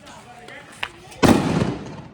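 Diwali firecrackers going off in a village celebration with friends, a small pop followed by a loud, close crackling burst, with voices talking around it.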